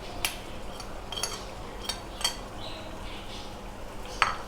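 Chopped onions sizzle softly in a pot of chicken korma while a spoon stirs and clinks against the metal in several sharp scrapes, all fairly quiet.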